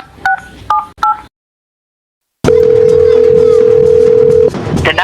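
Two quick runs of telephone keypad beeps, a stretch of silence, then a steady electronic call tone sounds for about two seconds over background noise.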